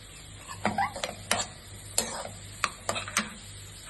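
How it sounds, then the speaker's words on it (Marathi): Finely chopped onion hits hot oil in a kadhai for a Malvani clam masala, with a low sizzle under repeated sharp scrapes and clatters of a spoon stirring against the pan. "तेल तापला की त्याच्यात बारीक चिरलेलो कांदो घालायचा"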